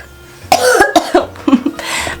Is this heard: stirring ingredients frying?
no